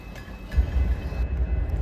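A BNSF freight train, led by locomotive 3997, rumbles past in La Crosse on a windy morning, a low steady roar with faint rail noise and no horn.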